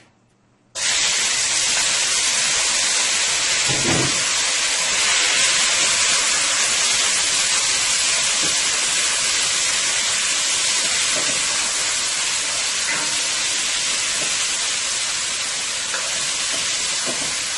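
Beef pieces go into a preheated pot for a Chinese-style beef and broccoli stir-fry, and a loud, steady sizzle starts at once and holds without a break. No one speaks over it.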